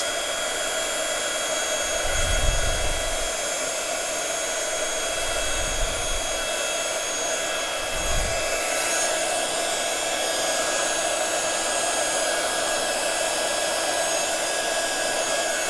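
A craft heat gun for embossing blows a steady, loud whooshing roar that runs continuously throughout, with a few soft low thumps near the start.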